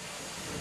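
A sealed barrel creaks and groans as steam condenses inside after cold water is poured over it, a steady hissing, rushing texture lasting under a second.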